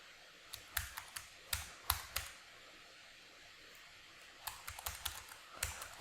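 Typing on a computer keyboard, close and fairly quiet: two short bursts of crisp key clicks separated by a pause, over a faint room hum.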